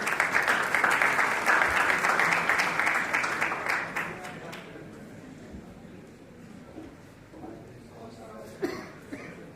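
A conference audience at an international pharmacy conference applauds loudly for several seconds before the clapping dies away into scattered coughs and low murmuring.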